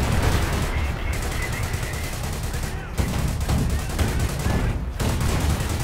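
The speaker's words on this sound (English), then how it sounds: "I got mortar fire over there." Battlefield gunfire and explosive bursts from the Company of Heroes base-siege game, with mortar fire among dense, continuous loud shooting that fills the whole span, with brief lulls and rapid volleys.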